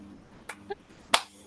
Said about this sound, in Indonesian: Ayo tepuk tangan teman-teman.